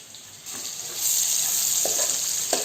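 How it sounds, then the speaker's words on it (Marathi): A large onion dropped into hot oil, the frying hiss swelling after a moment into a steady close sizzle, with a couple of soft utensil knocks near the end. "आता त्याच तेलामध्ये आहे ना मी हा कांदा फ्राय करायला टाकते."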